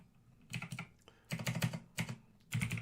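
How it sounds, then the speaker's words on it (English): Quick keystrokes clatter on a computer keyboard in four short bursts separated by brief pauses, close and moderately loud. "You'll have to excuse my typing"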